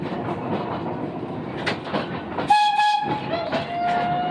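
A museum train rolls along with a steady rumble and rattle, and a long horn blast sounds partway through.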